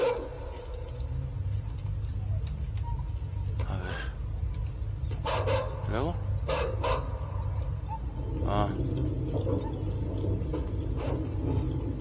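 A dog barking in the horror video game Inside, several sharp barks and yelps scattered over a steady low rumble of game ambience, with someone talking in between.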